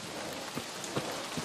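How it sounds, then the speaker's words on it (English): Steady rain in the video game Metro Exodus, a constant broadband hiss of drops on surfaces with a few faint patters standing out, quiet and even throughout. "It's raining now."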